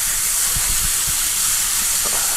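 Butter sizzles loudly in a hot pan, a dense, constant crackling hiss with a few low knocks underneath.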